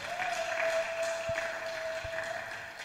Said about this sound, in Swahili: Mpigie Bwana Yesu makofi mazuri kabisa.